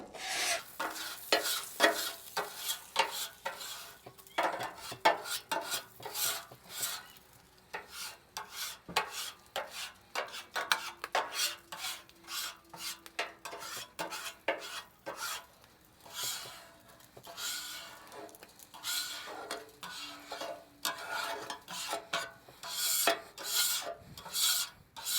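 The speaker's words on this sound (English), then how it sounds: "So right now I'm just going to scrape all this out of here." A metal scraper rasps repeatedly across a Blackstone griddle, pushing off cooked-on food residue in quick, rhythmic strokes that stay close and steady throughout with no talking.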